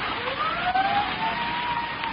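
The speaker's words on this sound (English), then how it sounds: "Sirens. Can't you hear them?" A police siren wails, rising and falling steadily in the distance in a radio drama, its pitch sweeping upward against a wash of background noise.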